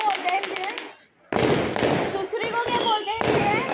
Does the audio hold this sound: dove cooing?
no